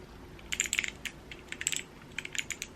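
Someone types on a keyboard with slightly textured, 90s-style keys, producing short clusters of sharp, close clicks separated by brief pauses, fairly quiet with no talking.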